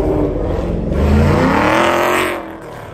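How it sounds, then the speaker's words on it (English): A car engine nearby revs up loudly with a rising, throaty roar. The pitch climbs and holds briefly, then drops off as the engine settles. "Like this guy's revving the engine on us."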